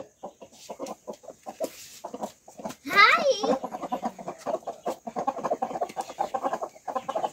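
Aseel chickens in a poultry yard cluck and call near the microphone, with one louder squawking burst in the middle, while a person talks over them throughout.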